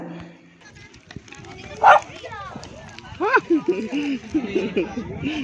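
A small puppy at a temple grounds gives a few short, high yips and barks, close by, with people talking around it.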